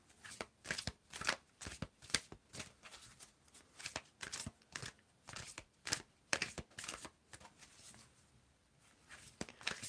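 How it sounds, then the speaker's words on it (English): Tarot cards are shuffled by hand in a steady series of quick, crisp riffling and slapping bursts, close by and fairly soft, with no voices over them. "Tell me when to stop shuffling, Vasha."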